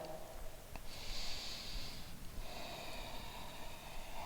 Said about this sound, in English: Let the exhale be complete.